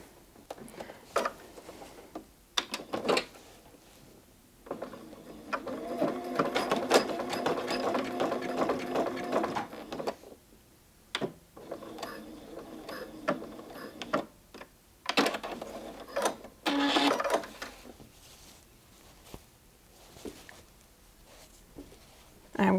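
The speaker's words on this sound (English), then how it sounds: "I'm going to sew a zigzag stitch as well as back stitch at the beginning" A sewing machine stitches a zigzag pattern on a fabric potholder in short and longer bursts of rapid mechanical whirring and ticking, with pauses between runs and someone talking quietly in the gaps.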